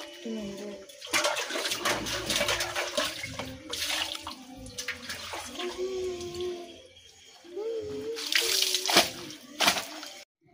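A basin caked with roti dough is washed with water in a home kitchen, with splashing, pouring and sloshing in short bursts near the microphone while someone talks over it.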